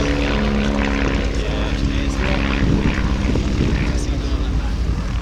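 A Bücker Bü 131 Jungmann propeller biplane drones steadily through an aerobatic display at an air show, with a loud, constant engine hum and no break across the whole span.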